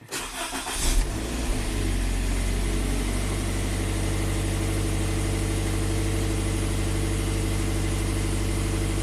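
A Scion FR-S with a low-power stumble fault cranks briefly, catches and settles into a steady, loud idle that drones on without a break.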